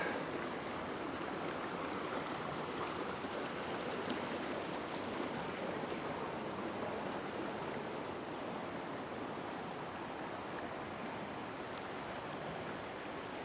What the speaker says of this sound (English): you'll hear the water flowing